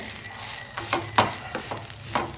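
Sliced bitter gourd frying in a pan while being stirred, a steady sizzle broken by several quick scraping strokes of a spatula, close and fairly loud.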